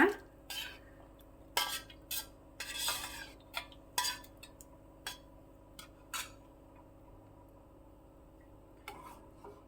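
Cooked sago is added to a pan and mixed with a spoon, giving close, irregular scraping strokes and metallic clinks against the pan, some quick and clustered, others spaced apart; no voices.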